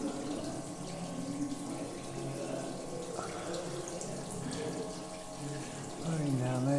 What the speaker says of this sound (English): there's fast flowing water running across there